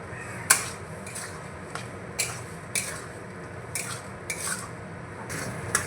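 Semolina is stirred with water and salt in a bowl, giving repeated scraping strokes with sharp spoon-on-bowl clinks at an uneven rhythm, close and fairly clear, no voices.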